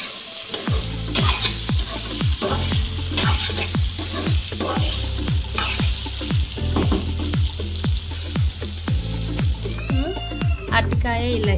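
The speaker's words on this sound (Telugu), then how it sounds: "ఇంకొకసారి కలుపుకోవాలి మంచిగా, చూసుకోవాలి మనం మధ్యలో మధ్యలో" Raw banana curry fries and sizzles in a pan while a spoon scrapes and stirs it in a steady series of rhythmic strokes, close and clear, with a voice speaking near the end.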